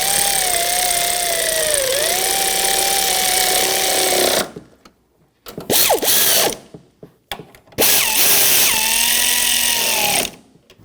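A power tool, most likely an impact wrench, runs up nuts on a 2007-2013 BMW X5 front strut assembly in long, loud ratcheting bursts broken by short pauses, close up and with no talk.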